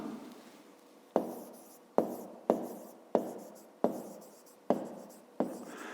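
A pen writing math figures on paper at a desk, about seven sharp, crisp strokes spaced roughly every half second to second, each fading quickly, close and moderately loud with no talking.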